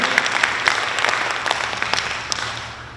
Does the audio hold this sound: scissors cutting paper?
no